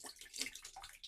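Water is poured onto a suede sneaker treated with protector spray, giving a soft, uneven splashing and trickling close by at low volume.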